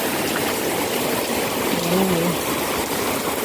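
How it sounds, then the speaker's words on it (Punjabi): Rainwater running over a field channel beside a paddy field after heavy rain, a steady rushing flow that fills the whole clip at an even level, with a faint voice briefly audible partway through. "ਹੁਣ ਤਾਂ ਸਾਰਾ ਚੋਣ ਉੱਪਰ ਦੀ ਚੱਲ ਰਿਹਾ ਪਾਣੀ"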